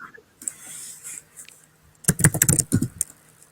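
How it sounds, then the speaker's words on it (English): Computer keyboard typing comes through an online video chat, a sparse few taps at first, then a quick burst of clattering keystrokes in the second half. "I can hear you typing"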